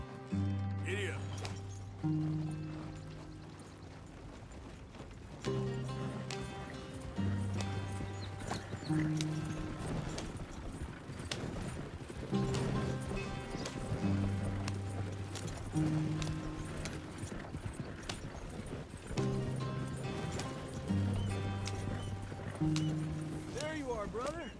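Horse hooves clip-clop in a rapid, rhythmic gallop in Red Dead Redemption 2, steady and close throughout, while people talk over the hoofbeats in a lively game soundtrack.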